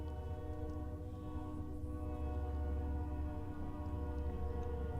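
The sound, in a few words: passing train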